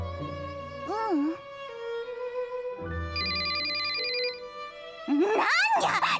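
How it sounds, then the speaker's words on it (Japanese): A telephone in a cafe-themed game rings with a pulsing electronic trill over steady background music, and a high animated character voice follows near the end. "なんにゃ、邪魔な電話にゃ。"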